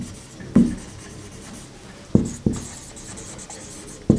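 Chalk or marker strokes on a board during an English grammar lesson, a few sharp taps and short scrapes spaced irregularly over soft room hiss, with no talking.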